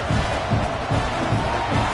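Stadium crowd at Neyland Stadium in Tennessee cheering before a Volunteers college football game, a dense, loud, continuous roar with rhythmic surges and pulsing low beats underneath.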